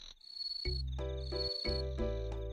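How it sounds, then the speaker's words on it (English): Cricket ambience from an RPG Maker 2 game, a thin high chirping background running under low tonal game music with droning synth notes, faint and continuous. "You can still hear the crickets."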